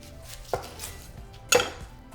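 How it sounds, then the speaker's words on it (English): A kitchen knife cuts through an onion on a cutting board with two sharp, close chops about a second apart over a quiet background. "Alright, so we're going to begin by cutting our onion."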